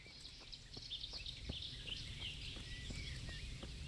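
Wild birds call in a hardcore survival video game, a few short high chirps repeating over a steady outdoor ambience, fairly faint and with no talking.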